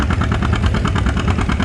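An antique tractor engine with dual exhaust and dual chrome stacks runs loud and close at a tractor pull, a steady throbbing rumble with no voices over it.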